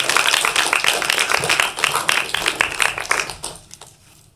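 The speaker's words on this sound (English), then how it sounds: "everybody clap when I know" At a Henderson city council meeting, an audience applauds a student honoree with lively close-up clapping, dense at first and then thinning into scattered claps before fading out.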